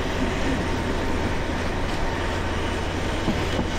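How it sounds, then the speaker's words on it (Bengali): A Dhaka-bound passenger train leaves Chittagong railway station along a curve under trees, giving a steady, close, loud rolling rumble of wheels on track with no pauses or voices. "এই চট্টগ্রাম রেলওয়ে স্টেশন থেকে বের হয়ে যাচ্ছে কার্ভ নিয়ে, গাছগাছালির নিচ দিয়ে।"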